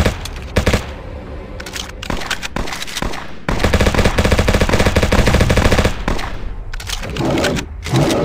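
Rapid bursts of gunfire fill a zombie shooter video game as the player fires at large zombies, loud clustered volleys and sustained automatic fire separated by brief pauses, with no talk over it.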